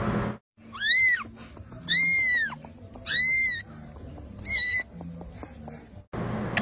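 A kitten meows four times in separate, evenly spaced cries, each rising and falling, close and clear over a quiet background with faint rustling.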